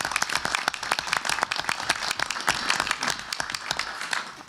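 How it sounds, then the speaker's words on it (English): Audience applause at a collaborative session, dense rapid hand claps filling the room at steady moderate loudness throughout, with no speech over it. "let's give a round of applause to"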